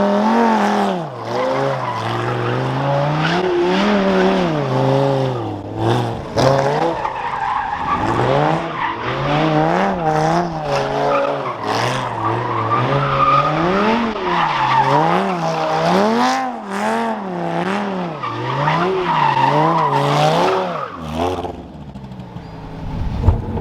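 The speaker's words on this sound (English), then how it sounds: "So the thing with donuts, like the Stradman says, you do them and then you get the hell out of there." A Corvette ZR1 spins donuts, its engine revving hard in rising and falling waves while the tires squeal and skid continuously. Loud and close, the sound lasts throughout with no voices.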